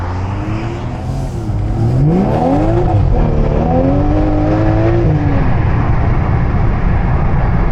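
Tuned BMW 330i with a B48 four-cylinder engine driving, loud and close, its deep bassy exhaust note rising and falling through several revving pulls without any talk.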